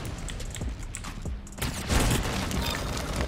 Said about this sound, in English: Straight up explosion.